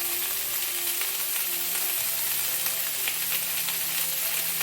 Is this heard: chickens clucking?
no